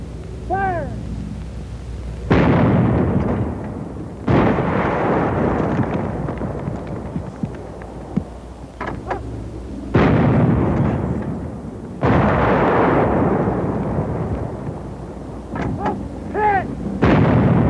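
Infantry weapons firing on a concrete pillbox, several heavy booming blasts spaced a few seconds apart, each followed by a long rumbling roar, loud and close, with faint shouted commands in between.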